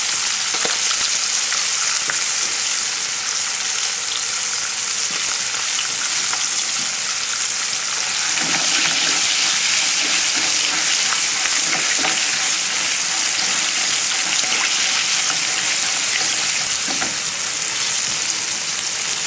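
Smelts frying in hot oil, a dense, loud, continuous crackle and bubbling sizzle that holds steady throughout without pause, heard up close with no voices.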